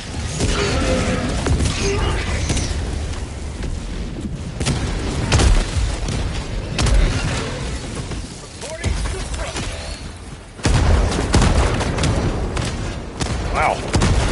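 Grenade explosions and gunfire in the Helldivers 2 game, loud repeated booms and crashes over continuous battle noise with people shouting.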